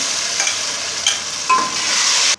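Steady sizzling of ground tomatoes frying in hot oil, with a few stirring scrapes and clinks partway through; no talking.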